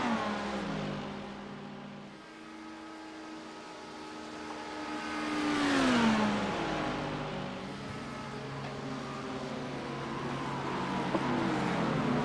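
Race cars in a racing game at Daytona International Speedway, engines droning and whining steadily with a rising-and-falling pitch as one car passes close by, a sustained loud roar with no voices.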